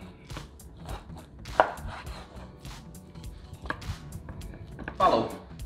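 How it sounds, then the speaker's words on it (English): Knife slicing filet mignon steak on a cutting board, a series of sharp chopping taps spaced unevenly over a few seconds, fairly close, with a low room background. "Continue cutting, same thickness."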